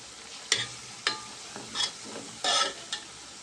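Coconut oil for homemade hair oil bubbling in a pot over heat, with a steady low sizzle broken by several sharp stirring scrapes at irregular intervals, fairly close and moderate in volume, no talking.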